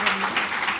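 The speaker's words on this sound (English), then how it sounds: "can you give these two women a big round of applause" An audience applauds two women at an event in a brief, steady patter of clapping that fills the short moment, close and fairly loud.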